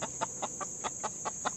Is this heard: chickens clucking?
yes